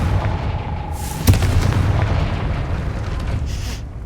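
A Confringo fire spell in Hogwarts Legacy bursts with a sharp, loud blast that rolls into a sustained rumbling boom, followed by fainter crackling and a second softer whoosh.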